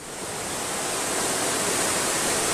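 River rushing far below the Winner Creek hand tram in Girdwood, Alaska, heard as a steady broad roar of white water that swells slightly and holds without a break.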